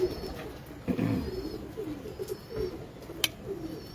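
Pigeons of a prized breed coo in a loft, a low murmuring coo rising near the start and recurring faintly through the clip with a sharp click near the end.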